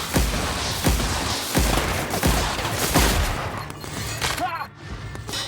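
Heavy gunfire in The Outer Worlds video game, a string of loud booming shots at a steady beat that thins out into fading effects, with a voice speaking over it.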